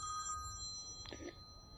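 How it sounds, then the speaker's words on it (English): A telephone rings with steady electronic tones, faint and somewhat distant in an old house being metal detected, fading after about a second, with no talking. "So that phone call had to wait."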